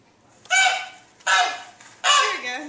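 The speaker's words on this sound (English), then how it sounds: "Now you can hear the goose a lot." Goose honks from a recording played on a Smartboard during a classroom demonstration, with three loud, nasal calls evenly spaced about a second apart, each rising sharply and then trailing off.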